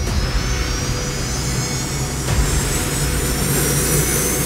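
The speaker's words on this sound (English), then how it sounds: "we've incorporated our high-powered next-generation electric jet turbines" Electric jet turbines of a Solar P1 Pro X-Wing personal aircraft roar in a steady, loud, continuous whine with a deep rumble beneath, holding level throughout.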